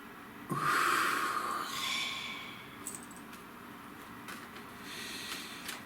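One deep breath is drawn in through the nose, a sharp, airy inhale that swells and then eases out, close and quiet, followed by faint room noise and small rustles.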